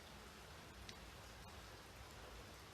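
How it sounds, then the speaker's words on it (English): Steady rain falls outdoors as a continuous, quiet wash of hiss with a few faint individual drop ticks, with no voices over it. "It's just raining."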